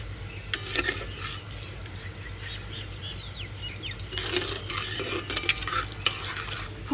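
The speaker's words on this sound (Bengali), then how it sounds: "গোবিন্দভোগ চালটা দেওয়ার পর একটু নেড়ে চেয়ে নিলাম" Gobindobhog rice is stirred into milk in a pot for bottle gourd payesh, in a village kitchen, producing soft scraping spoon strokes and a few metallic clinks against the vessel over a low background hum, with no talking.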